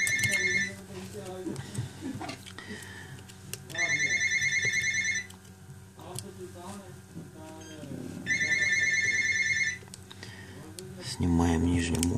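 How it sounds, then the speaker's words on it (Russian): Phone ringing during a Sony Xperia Z3 display module repair, repeated electronic ring bursts separated by pauses, with someone talking quietly between and under the rings. "звонит телефон не вовремя"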